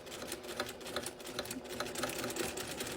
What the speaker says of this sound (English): you're just going to sew as close as you can to right there and then back tack right there